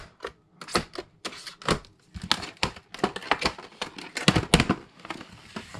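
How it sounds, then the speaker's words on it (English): Wire cutters snipping wire in a close, dry series of sharp clicks and crisp snaps, irregularly spaced and fairly loud, with no talk over them. "Snipped the wire nice."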